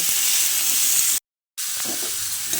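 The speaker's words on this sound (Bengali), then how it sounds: "আলু আর কুমড়ো একসঙ্গে করে কিছুক্ষণ এইভাবে ভেজে নেব" Potato and pumpkin pieces, salted, fry together in a pan with a steady, loud sizzle and hiss, broken by a brief moment of silence partway through.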